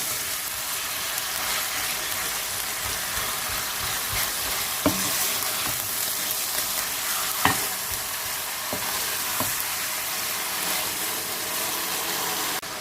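Ingredients frying in oil for chicken and potato curry, a constant crackling sizzle with occasional spoon scrapes and knocks against the pan, no speech.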